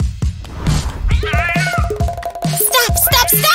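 A cat meows repeatedly in drawn-out, wavering cries amid a busy, noisy scene of thumps and scuffling, loud and close.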